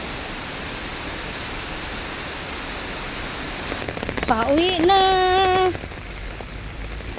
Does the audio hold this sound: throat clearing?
no